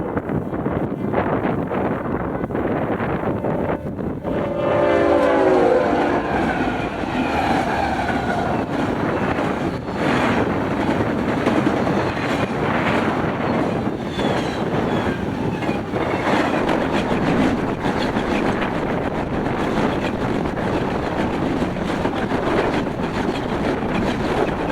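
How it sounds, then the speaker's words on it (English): A Union Pacific port stack intermodal freight train led by UP 5361 passes loud and close on a Mojave Desert mainline. Its continuous rumble carries wheel clickety-clack and gusts of wind noise throughout. "UP ZLBDV flew through, doing about the same speed as the port stack intermodal with UP"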